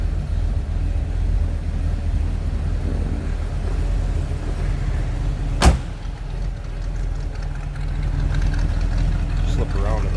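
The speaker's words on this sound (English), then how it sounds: "Nice little rumble coming out of that small block Chevy underneath the hood" A small-block Chevy V8 in a 1961 Chevrolet Corvette convertible idles with a low, steady rumble, broken by a single sharp knock partway through.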